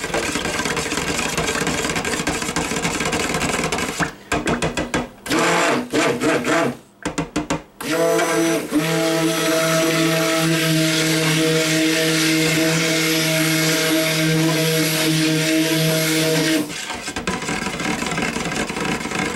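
Stick blender mixing bamboo silk and clay into soap batter for a beer soap: a sputtering start of short whirring bursts, then a sustained steady motor whine with a clear tonal hum, stopping near the end.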